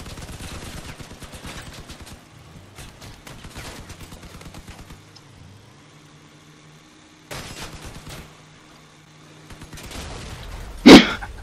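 Bursts of automatic gunfire from armored vehicles in the Crossout combat game, rapid rattling volleys that stop and start, then a loud close impact near the end.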